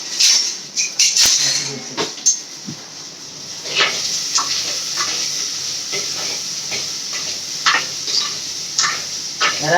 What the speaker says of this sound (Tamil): கடுகு போட்டு வெந்தயம் 2 போட்டு பூண்டு நெத்திக்கு போட்டு வெங்காயம் கருவேப்பிலை போட்டு வதக்கிட்டுருக்கோம்